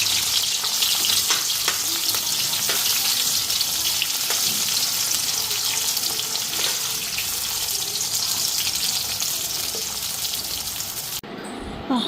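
Food fries in a pan with a loud, steady hiss and crackle that carries on close up without a break, and a few faint clinks sit under the sizzle.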